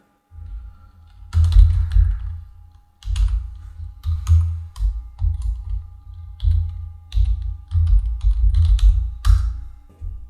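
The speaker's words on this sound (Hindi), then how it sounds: "चलिए tally.net ID लिख लेते हैं यहाँ पे" A tally.net ID being typed on a computer keyboard: bursts of close, crisp key clicks with short pauses between them, under a faint steady electronic hum.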